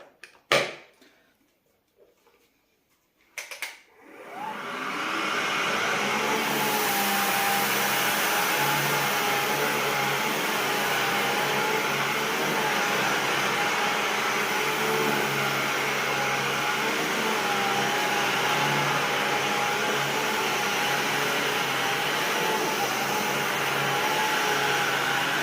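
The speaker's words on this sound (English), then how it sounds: "I'm going to end this by vacuuming what we just" Miele Triflex HX1 cordless vacuum cleaner switching on after a few quiet seconds, then running with a steady, loud, unbroken whine as it vacuums up dropped debris, with no talking.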